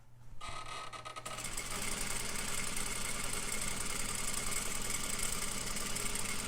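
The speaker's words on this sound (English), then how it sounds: "Presser foot down, needle in, back stitch, sew your seam." An overlock sewing machine sewing a seam starts up after a brief moment and settles into a steady, fast, even mechanical whir with a close, continuous hum.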